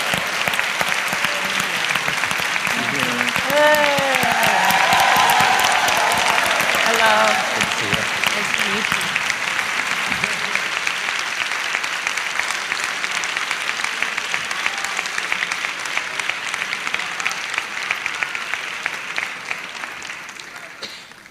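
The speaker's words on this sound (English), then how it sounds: "please give her a warm round of applause" Prolonged audience applause welcoming Nancy Pelosi at a voting rights town hall, a loud, dense roar of clapping that holds steady and slowly fades, with brief cheers and voices early on.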